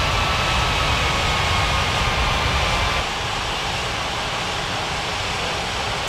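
Jet engines of airliners at an airport in an air traffic control video game roar steadily as a broad, constant rushing drone, slightly quieter in the second half.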